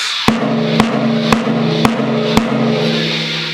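Five evenly spaced strikes on an acoustic drum with an old head, close and sharp, each leaving a sustained ringing tone that hums between strikes.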